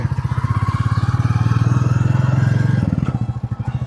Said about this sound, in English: There's another second gear change straight in.